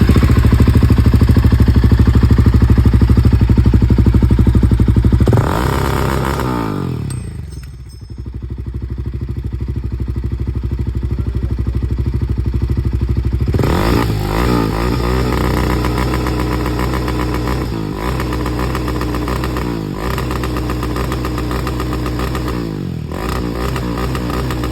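A Royal Enfield Himalayan 450 motorcycle fitted with an aftermarket exhaust, loud and close, idles with a steady thump, then blips and revs several times with sharp rises and falls in engine pitch; no talking.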